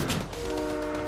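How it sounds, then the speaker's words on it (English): Train rushing past in the Fortnite video game, a loud roaring pass-by with a steady horn-like tone and rumbling clatter filling the whole moment up close. "I was about to get hit by a train."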